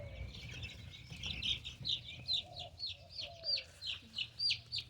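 Baby Wyandotte chicks chirping in a steady run of high, bright peeps, close and fairly quiet, with soft rustling underneath and no talk.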